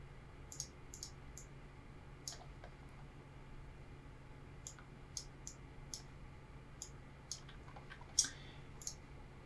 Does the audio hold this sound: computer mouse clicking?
yes